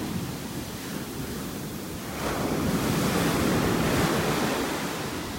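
Ocean surf and wind on a beach during Tropical Depression Alberto, a steady broad roar of breaking waves that swells louder midway, with gusty wind buffeting the microphone and no voices.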